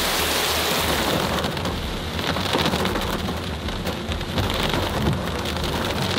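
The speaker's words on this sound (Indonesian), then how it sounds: "Hujannya makin gede, guys." Heavy rain pours down steadily on a mountainside near Gunung Kawi, a dense, loud hiss of drops drumming on surfaces throughout, with faint thunder rumbling underneath.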